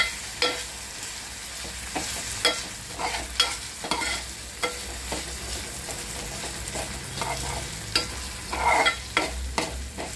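Red chili masala sizzles in hot oil for a mung and moth bean curry while a spoon scrapes and stirs the pan in repeated strokes, close and continuous under a soft frying hiss.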